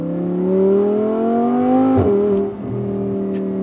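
An Audi R8 V10 Spyder engine drones loud and close, its pitch climbing steadily. The dual-clutch gearbox makes a quick shift with a brief crack and a dip in revs before the drone resumes at a lower pitch.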